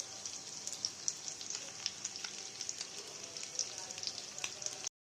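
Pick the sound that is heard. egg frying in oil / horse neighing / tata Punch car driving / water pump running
egg frying in oil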